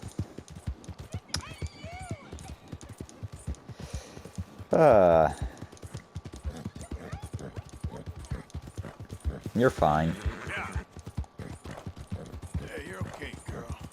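Horse hooves clip-clop steadily at a walking pace in Red Dead Redemption 2, the horse Pluto carrying its rider, with someone talking over the hoofbeats throughout and two brief louder bursts of other game sound.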